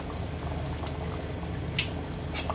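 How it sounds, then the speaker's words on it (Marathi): Taro leaf curry simmering in a pot with kokum and jaggery being added: a steady bubbling boil throughout, with a couple of faint clinks near the end. "आता आपण याच्यामध्ये ही आमसुलं टाकणार आहोत आणि जो गूळ घेतला होता तो टाकणार आहोत"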